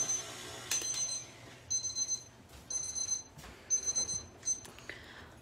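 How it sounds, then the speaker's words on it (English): A kitchen timer goes off with repeated high electronic beeps in short triple bursts, fairly loud and close, over faint background clatter. "that timer's going"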